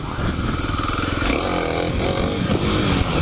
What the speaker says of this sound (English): Actually pull wheelies in the dirt now.